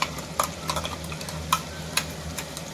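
Ground masala paste with cumin-coriander powder being stirred in a frying pan for Bhogichi bhaji, a Sankranti mixed vegetable dish, giving a few sharp spoon scrapes and clicks over a soft, steady background with no voices.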